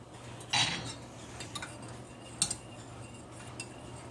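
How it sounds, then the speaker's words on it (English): A utensil stirring peppermint oil into a lavender skin salve in a container, with a few light metallic clinks and soft scrapes over quiet room tone. "And we'll get it stirred in."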